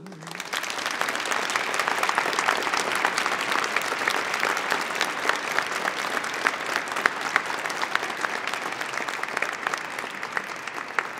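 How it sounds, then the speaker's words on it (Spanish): A crowd claps steadily at a peace concert in León, honouring a performer who could not attend; dense, sustained applause fills the whole stretch at an even level, close and lively. "Y os pediría un pequeño aplauso"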